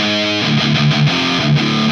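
Loud distorted electric guitar rings out through a Marshall Valvestate 8100's distortion channel with treble turned all the way up, a bright, harsh held chord followed by a quick rhythmic sequence of chopped notes.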